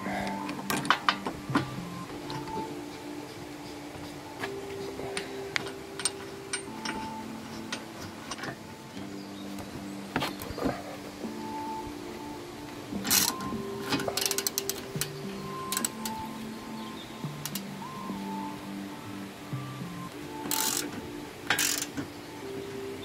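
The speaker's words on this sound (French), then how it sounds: "on va dévisser un peu le corps de l'amorto" Threaded coilover shock body being unscrewed on a BMW E36/E46, giving a steady run of small metallic clicks, ratcheting ticks and light mechanical clatter up close, with occasional sharper knocks and no talk.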